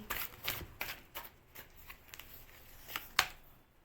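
Tarot cards being shuffled and drawn by hand, a series of quick papery riffles and flicks with short pauses between them, close and quiet.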